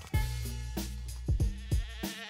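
A sheep bleating close by in a rapid series of about five or six wavering, nasal calls over two seconds, loud and clear with nothing else underneath.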